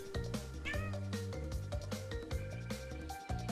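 A cat meows repeatedly, close and loud, its drawn-out cries sitting over a steady bed of upbeat game music from Crash Bandicoot N. Sane Trilogy.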